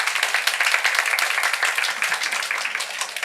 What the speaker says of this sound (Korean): 박수 시원하게 치죠.